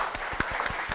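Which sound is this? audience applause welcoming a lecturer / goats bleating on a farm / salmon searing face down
audience applause welcoming a lecturer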